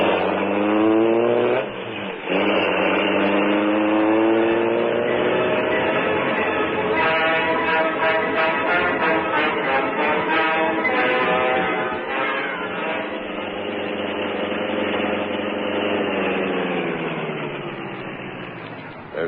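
A car engine in an old radio drama drives off from a building entrance at night, a steady loud motor roar that holds and slowly shifts pitch as it pulls away, with no talk over it.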